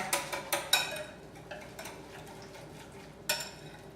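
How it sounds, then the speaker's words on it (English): A spoon stirring chia seed pudding in a container gives a few quiet scraping clicks and taps, bunched at first and then more spread out, with one last tap near the end. "So you just stir it real good, make sure that the seeds aren't getting chunked up in there."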